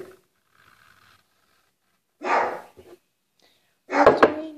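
A dog gives two loud, gruff barks close by, separated by quiet, with a faint murmur before them.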